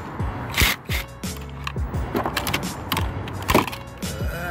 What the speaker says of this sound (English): we're going to use our 10 millimeter socket to loosen up the terminals here